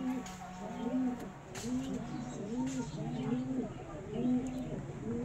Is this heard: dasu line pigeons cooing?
yes